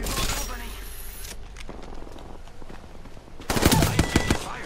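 Rapid automatic gunfire bursts out in the shooter Apex Legends, a dense crackling volley up front, a quieter stretch of scattered shots, then another loud close burst, with a player talking over it.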